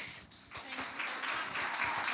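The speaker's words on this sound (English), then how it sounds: "Please welcome with a warm applause, Barbara Jagušák." A conference audience breaks into warm applause to welcome a speaker onto the stage, a dense wash of clapping that swells and holds steady for a couple of seconds.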